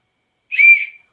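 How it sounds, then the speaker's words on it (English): A tour guide blows one short, sharp whistle, a bright tone of about half a second that rings out alone and close before cutting off. "this whistle will be my tool to remind you of the remaining time"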